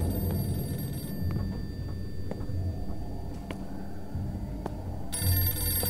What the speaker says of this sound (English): We got a phone ringing and we can't get out.